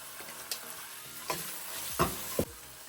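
Tomatoes and spices frying in a pan for radish sambar, a soft low sizzle broken by a few sharp stirring clinks and scrapes, close and quiet with no talk.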